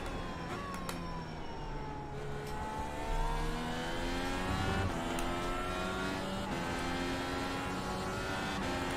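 An IndyCar engine in the iRacing video game, driven gently on an out lap at Road America, hums and shifts through gliding gear tones, steady and moderately loud with no talk.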